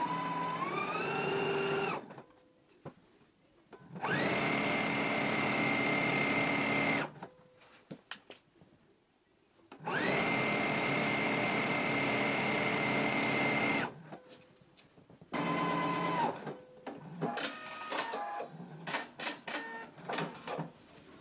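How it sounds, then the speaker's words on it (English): A sewing machine stitches the side seams of a pair of pants, running in several long steady bursts separated by short pauses, loud and close with no talking. "we can go to the machine and sew them in a 5/8 of an inch seam allowance"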